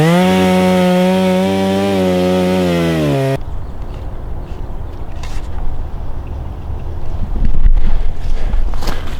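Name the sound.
chainsaw cutting wood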